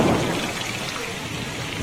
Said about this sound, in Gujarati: નવસારીમાં સતત વરસાદ વરસી રહ્યો છે, જનજીવન સ્વાભાવિક પ્રભાવિત થયું છે